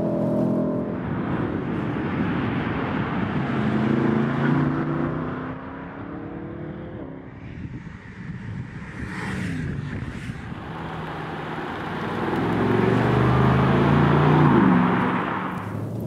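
A BMW M850i 8 Series Coupé runs hard on a racetrack, its V8 engine droning and rising in pitch through the gears, easing off midway and then climbing again, heard steadily from inside the car.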